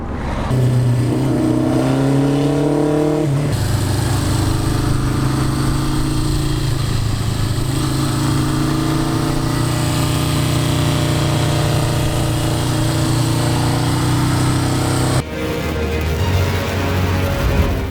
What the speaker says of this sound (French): on va essayer d'enregistrer le son de sa moto